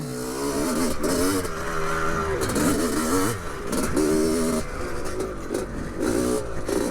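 A 47-year-old two-stroke motorcycle ridden hard, its small engine revving in loud, buzzing surges that climb and drop repeatedly, close to the rider, with wind rush and no clear talk.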